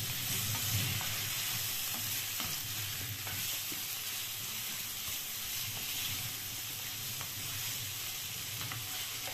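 Sweet paprika being stirred into vegetables frying in a pan, with a steady broadband sizzle and scraping stirs throughout, no voices.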